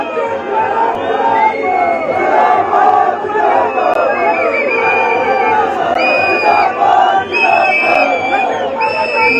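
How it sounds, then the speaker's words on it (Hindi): Large outdoor crowd at a statue-unveiling ceremony for a former chief minister on the Ridge in Shimla, with loud, continuous cheering, shouting and whoops throughout; no clear clapping stands out and voices blend into a dense roar. "कृपया तालियां बजती रहें।"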